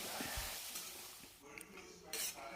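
Tomato chutney with turmeric is stirred in a pan, with soft scraping and light clinks over a faint sizzle, heard close but quiet.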